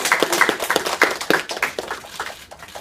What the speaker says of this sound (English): can we give this Hypeman a big round of applause?